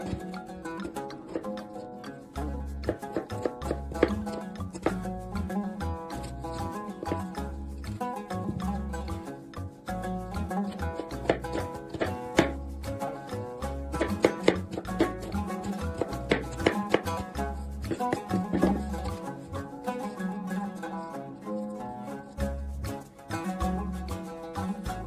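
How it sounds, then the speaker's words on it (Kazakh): Potatoes being chopped with a knife, a quick run of irregular sharp taps on a board over steady background music. "Одан кейін картоғымызды турап аламыз."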